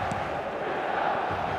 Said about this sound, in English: the San Siro is buzzing, certainly up for this one